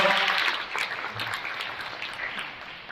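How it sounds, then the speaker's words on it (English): An audience at a DEWA innovation conference applauds a presenter named Fatima, a dense burst of clapping that starts strong and gradually fades over a few seconds, no talk over it. "Let's give her a big round of applause again."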